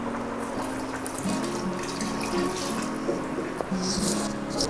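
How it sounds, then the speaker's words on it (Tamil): Water runs steadily with a splashing, trickling quality, poured into a rice pot at close range for several seconds without pause. "ரைஸுக்கு தேவையான தண்ணி மட்டும் ஊற்றிடுவோம்."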